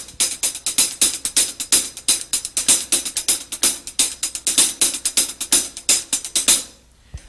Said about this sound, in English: I'll play it on the hi-hat.